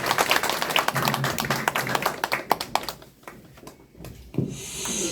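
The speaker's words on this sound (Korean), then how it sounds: "박수 한번 주시면 고겠습니다" Scattered clapping at a Korean political party press conference with Buddhist leaders, loud and uneven at first, thinning out, dropping to near quiet around the fourth second before a small rise.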